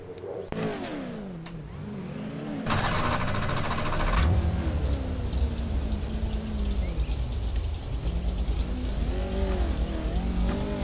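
PRO2 off-road race trucks at Crandon on a foggy day. Engines roar and rev loudly and continuously, with pitch sweeping up and down as the trucks accelerate and back off, and a broadband burst of tire and track noise partway through.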